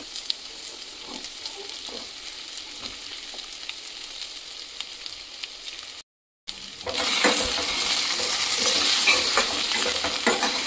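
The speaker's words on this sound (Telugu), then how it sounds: "ఇంకా ఈ కడాయిలోనే మనం కట్ చేసి పెట్టుకున్న చిలకడ దుంపల ముక్కలు వేసుకోవాలి" Sweet potato pieces drop into a hot kadai and fry with a steady, loud sizzle and crackle that swells after a brief silence, close up, with no voices.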